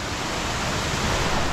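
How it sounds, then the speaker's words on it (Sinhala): Water rushing along a mountain pilgrimage trail on the Kuruwita route to Sri Pada, a loud, dense, unbroken roar of flowing stream filling the whole moment. "වතුර පාර"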